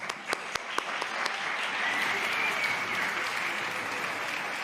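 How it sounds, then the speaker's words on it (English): A parliamentary audience applauds the simultaneous interpreters, opening with a few sharp separate claps that build into a steady, moderately distant wash of applause. "Please applaud them."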